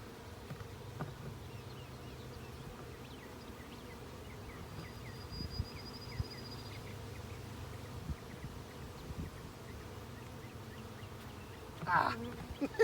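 A honeybee swarm from a cedar tree, being gathered into a box, gives off a faint, steady low buzz throughout, with a few soft handling knocks and a brief louder rustle near the end.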